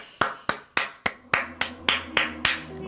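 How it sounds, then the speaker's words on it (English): Crisp hand claps ring out in an even rhythm, about nine sharp claps in quick succession, close and clear with no talking. "clap it up"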